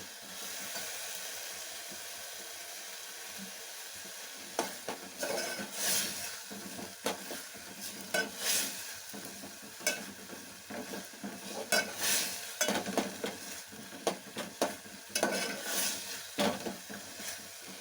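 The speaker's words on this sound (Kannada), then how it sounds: "ಹೀಗೆ ಸ್ವಲ್ಪ ಫ್ರೈ ಆಗಲಿ" Whole spices fry in a pan for pepper rasam, giving a steady low sizzle broken by repeated scraping stirs that grow busier and louder through the second half, close up with no talking.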